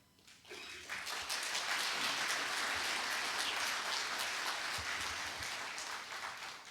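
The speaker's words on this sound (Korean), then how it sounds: "이 박수는 저한테 주시는 박수가 아니라 우리 차 총장님께 드리는 박수입니다" Audience at a farewell ceremony for university president Cha Jeong-in breaks into applause, rising quickly into a broad, even wash of clapping that holds steady and eases slightly toward the end.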